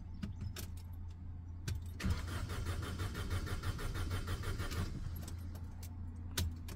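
A car engine cranks steadily over a starter motor during fuel pump fault diagnosis for a fuel trim trouble code, a dense continuous churning lasting about three seconds between quieter stretches with small metallic clicks.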